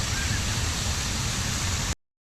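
A waterfall in a forest flows with a dense, steady broadband rush that holds constant and then cuts off abruptly.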